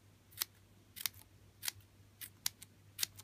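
Scissors snip through paper in a series of crisp, quiet cuts, about seven snips spaced irregularly over a faint background hum.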